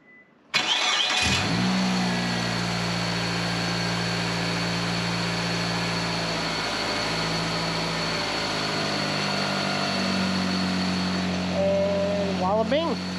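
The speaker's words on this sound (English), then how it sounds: "Engine runs, purrs pretty." A car engine cranks and fires after a valve cover change, then settles into a steady, smooth idle that runs loud and close for several seconds, with a small rev at the end and a voice briefly over it.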